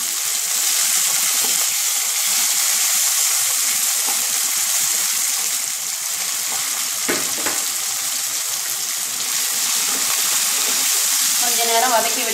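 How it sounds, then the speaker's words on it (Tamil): Shallots sautéing in a pan with fried chana dal and urad dal, giving a steady, loud crackling sizzle throughout, with brief stirring scrapes near the end. "நம்ம அதிலே வந்து சின்ன வெங்காயத்தை போட்டுக்கலாம்."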